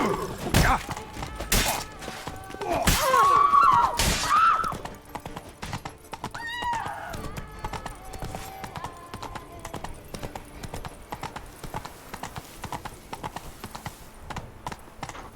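Roach, a horse in The Witcher 3 Blood and Wine, gallops with rapid rhythmic hoofbeats, letting out a loud whinny early on before the clip-clop continues steadily at middle distance.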